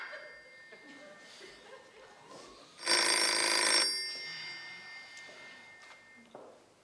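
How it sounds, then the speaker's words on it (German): On stage at a live comedy show, a telephone bell rings once in a loud, buzzing burst lasting about a second, amid quiet voices and light laughter. "Es läutet!"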